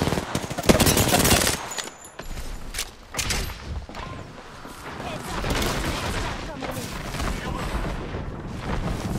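Gunfire in the Apex Legends video game crackles in dense automatic bursts and booms, loud and near, with scattered shots continuing under the game's other noise.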